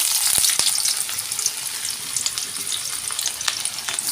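Onion sizzling in hot oil in a pan for Bengali-style tarka dal, a steady bright crackling hiss with a few sharp pops, close and continuous with no talking.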